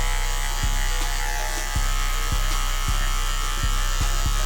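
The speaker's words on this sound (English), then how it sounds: "The angle on your clipper really makes a difference." An electric hair clipper with a detachable blade buzzes steadily and close up while a light fade is cut. Brief clicks and taps recur throughout over the constant motor hum, and no one speaks.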